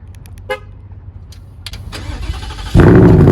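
A few short beeps from the key fob, then a 2021 Ford Mustang Mach 1 engine cranks and roars to life by remote start, running loud and steady.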